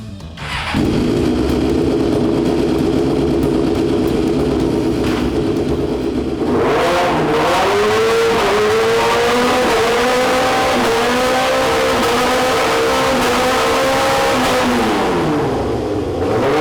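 A motorcycle engine revs up hard and holds high revs, a loud rising whine that climbs and then drops as the throttle is cut, close and alone.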